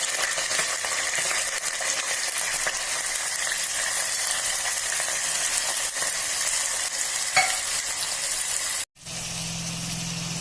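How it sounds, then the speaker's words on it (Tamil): Onions and green chillies frying in oil with cinnamon and cloves for chicken biryani, a loud dense continuous sizzle close up with a faint stir or two, briefly cutting out near the end before resuming, no voices. "வெங்காயம் நல்லா வதக்கிடலாம்"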